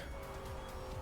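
A desert car in the Trackmania racing game brakes briefly, its tires letting out a steady, high squeal over the engine drone for about a second.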